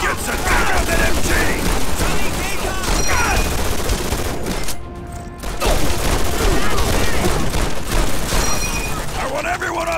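Sustained, loud machine gun fire in Call of Duty: World at War, dense rapid bursts filling the scene with a brief lull midway, layered with battle noise and shouted voices.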